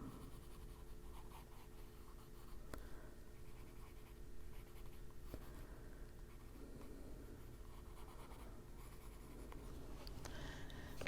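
Colored pencil moves across paper in steady, soft scratchy strokes close by, faint and continuous with small taps, as light cobalt turquoise is laid along the edges of white areas on a coloring page.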